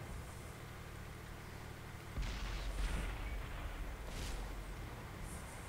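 Artillery shells in the World of Tanks video game land with a heavy, rumbling boom that swells into a sustained low roar, with a second muffled impact shortly after over steady battlefield noise.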